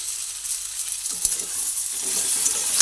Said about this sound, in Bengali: আলু আর বেগুন একসঙ্গে ভেজে নিলাম